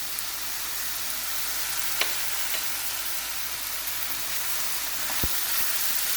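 Chopped bottle gourd with table salt, coriander powder and turmeric sizzles steadily in a pan, with a few sharp scrapes and knocks as it is stirred; no voices.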